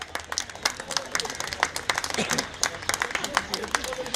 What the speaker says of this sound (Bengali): ওনার জন্য একটা জোরে হাততালি হোক।